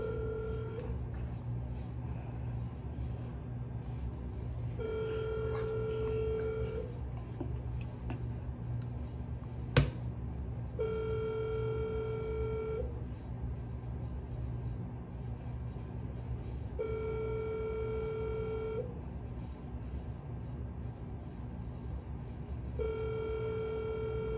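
An outgoing phone call rings through a handset: evenly spaced double ring tones repeat about every six seconds over a low steady hum, with a single sharp click midway and no talk.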